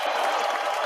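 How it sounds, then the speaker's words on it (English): A short, steady wash of audience applause from a crowd at a trading seminar after a sponsor is thanked, heard alone without talk. "Give them a big round of applause."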